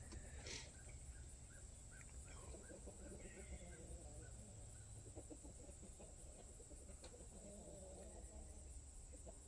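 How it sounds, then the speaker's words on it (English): Roosters crow and chickens cluck in the distance on a homestead over a steady outdoor hum, with faint calls repeating throughout. "We got a bunch of chickens, a bunch of roosters."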